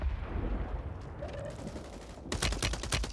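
A Glock pistol fitted with a switch fires a rapid automatic burst in Warzone on Rebirth Island. The sharp cracks come in quick succession at the end, over steady game background noise.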